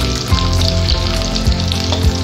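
Garlic and onions frying loudly in a pan for pancit, a dense, steady close sizzle with a low hum beneath and a few soft stirring knocks.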